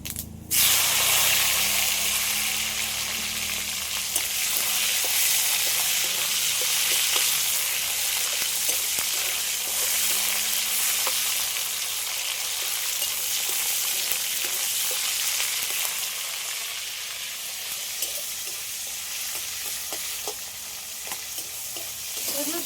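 Chopped tomatoes frying in oil in a pan, a loud steady sizzle that runs unbroken throughout, with faint scraping of a spatula now and then.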